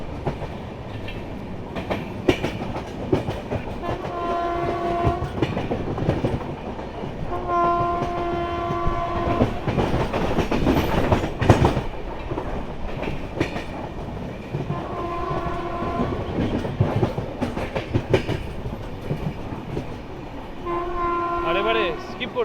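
The New Delhi–Howrah Duronto Express runs at speed with a steady rumble and rhythmic wheel clatter, while repeated horn blasts sound in several separate bursts through the stretch and a voice is faintly heard.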